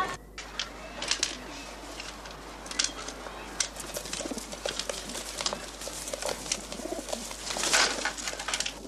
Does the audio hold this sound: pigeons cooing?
yes